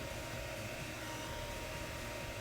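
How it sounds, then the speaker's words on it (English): Blow dryer heating table top epoxy, a steady, even whooshing of fan noise running unbroken at moderate volume. "Point of the blow dryer towards the edges, and make sure that the epoxy flows over the edges nicely."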